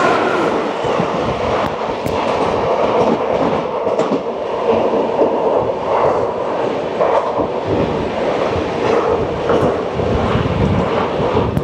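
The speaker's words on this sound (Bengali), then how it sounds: "আমাদের ট্রেন আবারও ছুঁয়ে নিল তার সর্বোচ্চ গতিবেগ" Kolkata to Varanasi express train running at top speed through Bihar after the Jharkhand ghat section, a loud continuous interior rumble with steady wheel clatter throughout, no talking.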